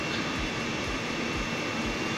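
An electric drill runs continuously close by, a loud, steady broadband whirring motor drone with a faint regular pulsing and no talk.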